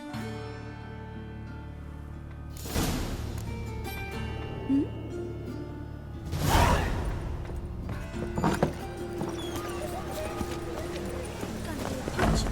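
Roach, a horse in the Witcher 3 video game, clip-clops along in a steady hoof rhythm with a few heavier thumps and bursts, moderately loud, while voices and game sounds occur around it.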